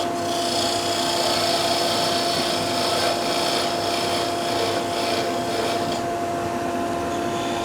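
A parting tool side-scrapes spinning wood on a lathe while turning patio skittles, giving a steady, close, continuous rasping hiss over the hum of the machine.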